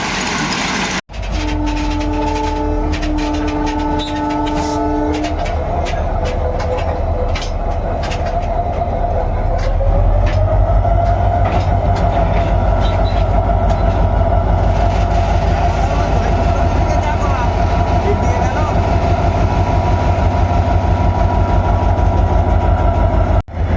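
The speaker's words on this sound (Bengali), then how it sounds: "বন্ধুগণ এবার জয়রামবাটি রেল স্টেশনের পথে একদম ব্রিজ পার করে বেরিয়ে যাচ্ছে" A diesel train on the Bishnupur–Tarakeswar line crosses a bridge toward Jayrambati station, with loud, continuous rumble and rhythmic wheel clatter, a sustained horn blast near the start, and the roar swelling and holding close throughout.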